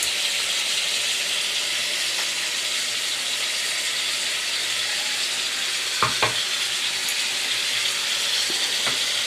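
Masala spices fry in a hot pan with a steady, even sizzle, broken by a few sharp clinks of stirring near the end.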